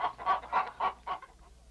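Chickens cluck in a run of five close, rhythmic calls in a television commercial, with a steady low hum beneath and no talking.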